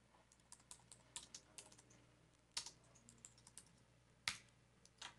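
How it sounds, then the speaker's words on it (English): Typing a street address on a computer keyboard: quiet, uneven clicks and taps in short bursts with a few louder key strikes, close up and alone against a faint hum. "I can just type in the street address"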